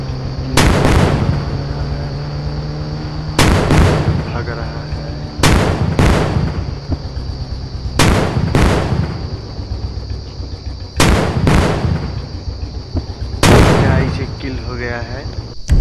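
Gunfire in the mobile game Indian Bike Driving 3D during a fight with police: loud, sharp bursts of two or three shots at regular intervals over a steady background hum.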